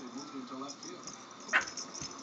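A dog gives a single short, sharp yip or bark over a faint background of a voice and light noise, fairly close and brief.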